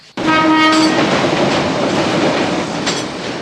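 A loud train horn blares at the start, its steady tones ringing over the continuous rumble and clatter of a train rolling close by.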